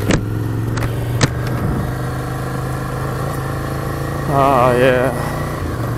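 A Yamaha WR250 dirt bike cruises over a dirt trail, its engine droning steadily at mid pitch throughout, with a brief rise in revs near the end and a rider's voice speaking over it.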